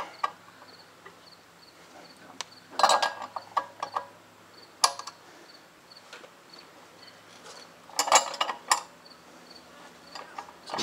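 Mechanical cranking as a rear wheel bearing is pressed into place on a Suzuki Burgman scooter, with quiet, intermittent bursts of ratcheting clicks over a low background hum and no talk.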